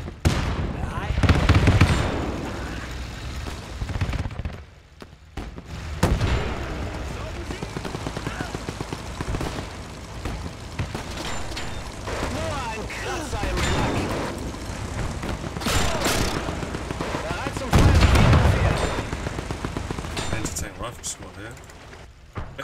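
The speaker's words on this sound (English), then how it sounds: "Somebody's trying to shoot me." Battlefield gunfire in Men of War 2, rattling bursts and heavier booms going on throughout at close and middle range, with a voice talking over the fighting.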